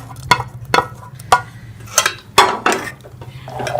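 A metal spoon clinking against a cooking pot as softened pumpkin is stirred into milk for kheer, a series of sharp separate knocks and scrapes over a faint steady hum.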